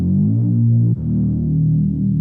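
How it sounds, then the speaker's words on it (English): Reese synth bass one-shot with pitch slides, a thick sustained low tone that holds steady, dips briefly near the middle, then slides into a new sustained pitch, loud and alone with no other sounds. "here's a synth bass. It's called the Reese bass."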